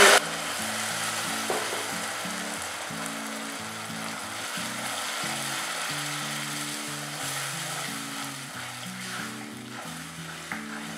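Tomato paste hits well-browned onions frying in a pan for tomato salna, giving a steady, moderate sizzle that runs under continuous background music.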